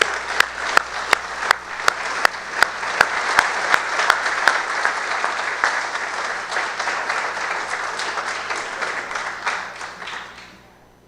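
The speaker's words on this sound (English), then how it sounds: "I would love to give you a round of applause and present you with your plaque." An audience claps for a plaque presentation at an evening celebration, starting with a few sharp distinct claps up front before settling into a steady round of applause that slowly fades out.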